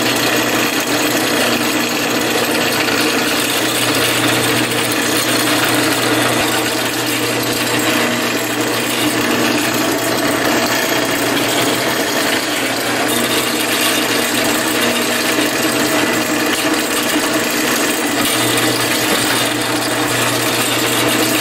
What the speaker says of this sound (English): now we're going to go through and start drilling out all the holes and getting it ready.